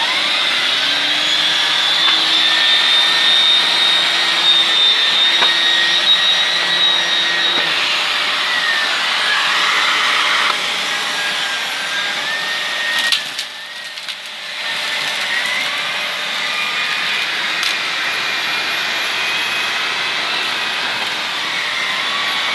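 A Miele vacuum cleaner fitted with a turbo brush head runs on maximum power, giving a loud, steady, high-pitched whine with slight shifts in tone as the head moves across the floor.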